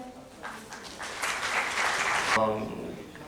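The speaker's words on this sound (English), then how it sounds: "Please give a round of applause for them." Audience applause for two co-hosts at an entrepreneurship awareness event, a dense clapping burst rising after half a second and holding steady before tapering near the end, with a voice faintly audible underneath.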